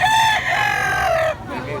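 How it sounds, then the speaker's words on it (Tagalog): A rooster crows loudly and close by, one long drawn-out call that trails off, followed by softer clucking. "Manok ni Tatay Stag sa kalibo."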